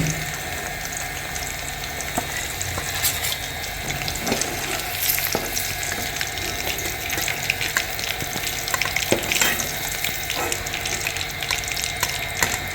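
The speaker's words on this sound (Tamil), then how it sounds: "சிக்கன் பொரிக்க போகிறோம்." Steady hiss and crackle of chicken frying in hot oil for Malaysian nasi lemak, continuous and close, with occasional pops and faint clinks; no talking.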